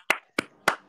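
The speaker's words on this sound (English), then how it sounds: "give a round of applause, everybody" Three sharp, separate handclaps at a live stream honoring a two-time champion, each one loud and close with a short decay and no voices between them.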